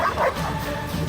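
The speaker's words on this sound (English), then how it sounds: "What are they, radioactive dogs?" Dogs in The Witcher video game give a quick burst of close yipping barks and whimpers, loud and brief, over a rumbling background.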